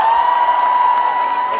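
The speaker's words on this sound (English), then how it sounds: "Give yourselves a big round of applause." A large crowd at a Zumba dance event applauds and cheers together, a loud, dense wash of clapping and crowd noise with a sustained tone running beneath it.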